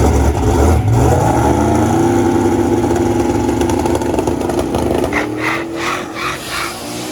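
No-prep drag race cars roar down the track, a loud, sustained engine drone that climbs in pitch as they accelerate, then fades with a few fluttering gear changes toward the end.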